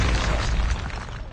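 Molotov explosion in the video game COD Mobile, a brief deep booming burst with a rumbling fiery roar, loud and close, no talking.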